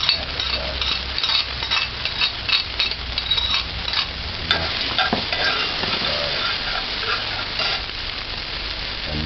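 Garlic sizzles and fries in a hot pan while being stirred, a steady crackling hiss with light scraping and clinks from the utensil, moderately quiet with no voices.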